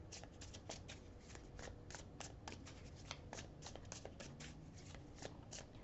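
Tarot cards are shuffled close by in quick, even riffling bursts, a soft, crisp flutter repeating again and again with no voice over it.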